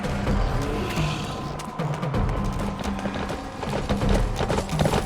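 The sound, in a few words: horse hooves in the video game Shadows of the Damned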